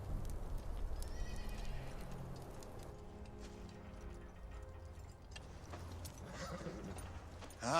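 Horses on a medieval Scottish battlefield whinny loudly and close by, with hooves clip-clopping and shuffling throughout.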